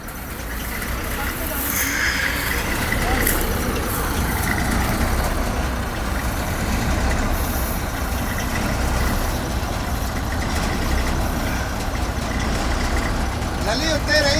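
A combine harvester engine runs steadily in a field, a loud, continuous low mechanical drone with people speaking over it.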